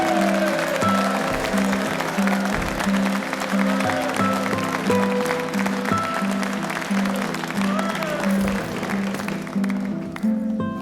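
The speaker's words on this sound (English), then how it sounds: "How that baby is not wailing with all that clapping and noise" Sustained clapping and crowd noise fill a Henry VIII screen scene, loud and steady throughout, with ringing musical tones running underneath.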